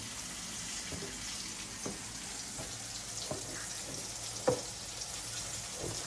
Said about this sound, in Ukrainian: І будемо ще смажити сьогодні і корочку навіть.